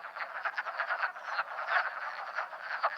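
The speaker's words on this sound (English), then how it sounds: "listening to the calling frogs and watching for females paired up with males" Dense chorus of wood frogs croaking continuously at a pond at night, many overlapping pulsed calls at a steady moderate level, with no other sounds standing out.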